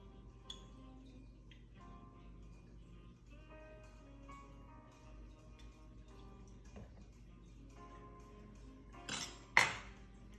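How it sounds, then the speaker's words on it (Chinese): Mint leaves being gently muddled with simple syrup in a glass for a mint julep cocktail, soft repeated taps and light glassy clinks, very quiet and close, ending in a brief louder knock and clatter. "轻轻捣碎， 但不要捣得太碎。"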